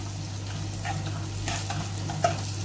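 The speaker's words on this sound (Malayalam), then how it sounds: "നന്നായിട്ട് ഇളക്കി ചേർത്ത് കൊടുക്കുക" Onions sautéing in a pan for Kerala mushroom mezhukkupuratti, stirred with a steady sizzle, soft utensil scrapes and one sharp clink near the end, with a constant low hum underneath.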